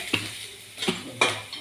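Crushed shallots and dried chillies fry in a pan with three sharp scraping stirs of a metal spoon against the pan, each a quick clatter over a low steady sizzle, close and fairly loud.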